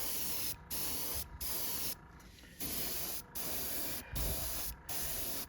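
UV clear coat is sprayed onto a painted fishing lure in several short bursts, a close soft hiss repeating about every second with brief gaps between passes.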